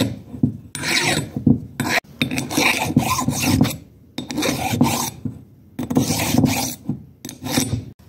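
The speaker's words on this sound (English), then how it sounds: "I don't need to give it a grind, I just give it a file," A hand file rasping across a hardened clutch part from an Ironhead Harley-Davidson Sportster, loud close strokes in repeated runs with short pauses between, steady scraping grit throughout.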